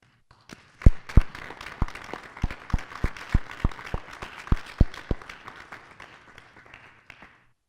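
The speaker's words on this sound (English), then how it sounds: "stand up and receive applause" Audience applause at a panel event for the launch of a North America chapter, a steady burst of many hands clapping with sharp individual claps standing out, lasting several seconds before tapering off.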